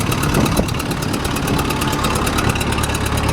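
Sawmill motor running while charging a battery, a loud, steady idling drone with an even pulsing throb that holds unchanged from start to finish, no voices.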